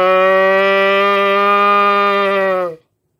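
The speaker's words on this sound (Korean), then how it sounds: "더 적은 떨림으로 버징, 소 울음소리가 납니다" A trumpet mouthpiece buzzed alone gives one steady, low, moo-like drone that holds for almost three seconds and then stops abruptly into silence.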